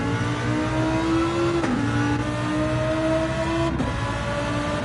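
Gran Turismo 7 race car pulling out of the pits on intermediate tyres, engine droning steadily and climbing in pitch through gear changes, close and continuous with brief shift breaks.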